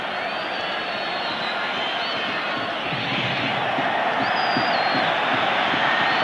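Large football stadium crowd at a Real Madrid versus Deportivo league match applauding a substitution, a broad loud wash of clapping and crowd noise that swells slightly toward the end.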